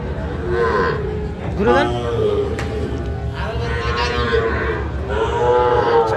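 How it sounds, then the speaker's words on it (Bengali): Young bull calves at a cattle market in Tangail low in long, drawn-out moos, three or four calls close by, while a person speaks briefly among the steady background bustle. "দুইটাই সার বাছুর।"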